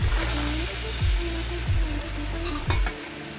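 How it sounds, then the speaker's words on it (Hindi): Boiled chickpeas tipped into frying masala and stirred, a steady sizzle with several low scraping stirs and a brief clatter, close and fairly loud, no talk. "मसाला हमारा फ्राई हो गया है। अब मैं इसमें चने डाल रही हूँ"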